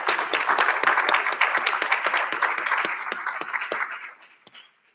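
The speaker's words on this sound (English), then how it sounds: "Let's give yourselves a round of applause." The class of 2021, the largest graduating class at Old Westbury, claps in a dense burst of applause at a recognition ceremony, with a few sharp individual claps standing out before it fades to silence near the end.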